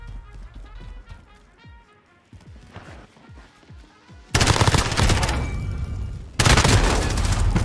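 MP5 submachine gun fire in the video game Call of Duty: Modern Warfare: quiet rhythmic footsteps and clatter give way to two loud, sustained bursts of rapid automatic fire up close.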